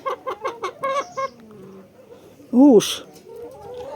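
Several short, rhythmic clucks from a hen open the clip, then a brief spoken word and a louder squawk-like call.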